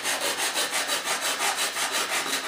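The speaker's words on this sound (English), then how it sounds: "Take a saw and cut that first." A hand saw cuts through plywood in a steady rhythm of about a dozen close, rasping back-and-forth strokes, with no voices.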